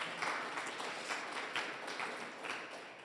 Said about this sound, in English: That sounded like a golf clap.